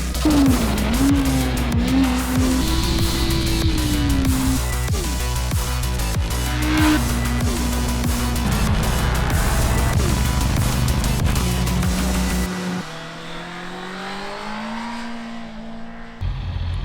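Honda CB650R E-Clutch motorcycle engine running loud and close, its pitch rising and falling through gear changes, then dropping to a quieter idle near the end.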